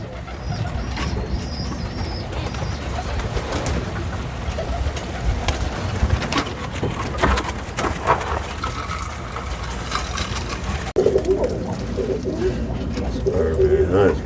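Many roller pigeons cooing and fluttering in an enclosed loft, a steady dense chorus with occasional wing flaps and faint voices mixed in.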